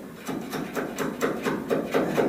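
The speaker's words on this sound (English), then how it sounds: "Sanding it." Lead body filler being sanded on the body of a DKW Schnellaster F800 van, a steady back-and-forth rasping scrape in even strokes, close and moderately quiet, with no voices.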